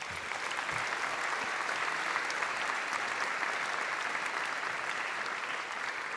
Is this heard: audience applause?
yes